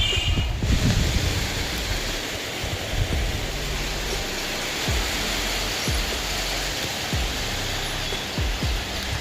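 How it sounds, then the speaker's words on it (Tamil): Steady, even hiss of heavy rain pouring down on a rainy day at a family home, a constant wash of noise with occasional low thumps and bumps near the start. "மழை செம்மையாக தூர ஆரம்பிச்சிருச்சு"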